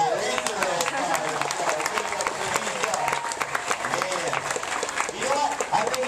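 A crowd at a Gatorland alligator wrestling show in Florida claps in sustained applause, dense and lively, while an announcer's amplified voice talks over it.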